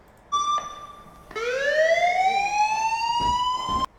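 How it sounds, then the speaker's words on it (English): A loud siren tone that holds steady, then jumps lower and slowly sweeps upward, with a couple of faint clicks before it cuts off. "It's a generic siren sound effect, right?"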